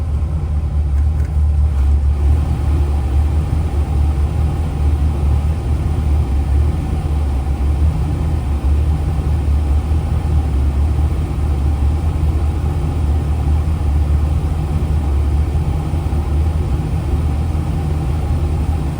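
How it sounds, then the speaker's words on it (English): The climate control blower of a 1975 Lincoln Continental runs on high with the engine going, a constant broad whooshing roar over a low idle rumble, steady and unbroken with no talking. "And we got full blower."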